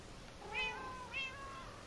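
Two short, high meows from Minecraft cats in the Console Edition game, spaced about half a second apart over a soft background hiss, fairly faint and with no voices.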